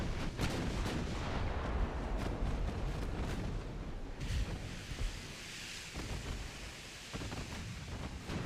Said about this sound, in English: Unleash the full broadside capabilities of our battleships and heavy cruisers.